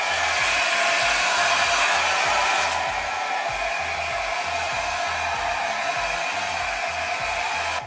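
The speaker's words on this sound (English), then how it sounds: "I'm gonna go ahead with my blow dryer now and dry the glue." A handheld blow dryer runs steadily on the cool setting to dry wig glue on a 360 lace frontal install, a loud continuous whoosh with a slight drop in intensity partway through and no talking.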